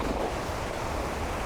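The first cascade of the Blue Falls in Costa Rica pours in a steady, dense rushing roar that fills the whole clip without pause, with no voices.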